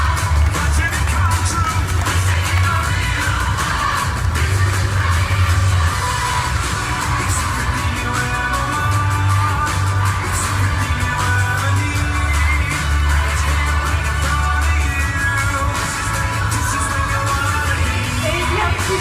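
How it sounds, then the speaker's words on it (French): A crowd at a Forever Living Products gathering applauds the Chairman's Bonus qualifiers: loud, dense, continuous clapping that lasts throughout, mixed with cheers, whoops and shouts. "on peut les applaudir bien fort"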